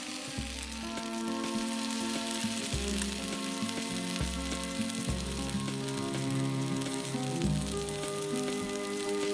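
Mushroom steaks searing in a ridged grill pan, pressed down with a spatula or tongs, give a steady, close sizzle and fry with faint crackles throughout, no talking.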